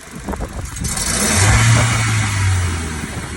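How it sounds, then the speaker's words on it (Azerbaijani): A 2010 Kia Rio 1.4 engine idles, then revs up and holds a raised, slightly uneven pitch from misfires before easing back, close by with no talking. "İndi qaz verəcəm, diqqət edin bir dənə"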